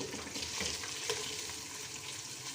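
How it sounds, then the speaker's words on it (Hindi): Chopped onions sizzle in a pan over garlic and ginger, an even, close frying hiss with a few stirring clicks, no talking. "अब इनको फ्राई करेंगे"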